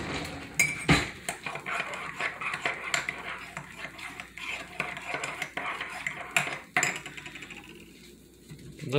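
A spoon clinks and scrapes against a cup while stirring sugar-free chocolate coffee, with a run of close, irregular metallic taps and rattles and no talking.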